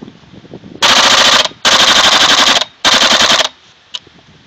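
A WE G39C gas airsoft pistol fires full auto in three rapid bursts, loud and close, with short pauses between them and a faint click near the end.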